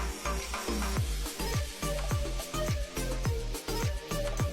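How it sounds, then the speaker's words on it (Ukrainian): One egg sizzles steadily in a greased hot pan, with a regular thumping beat running underneath and no voices. "Змащуємо сковорідку, виливаємо одне яйце і підсмажуємо з обіх сторін."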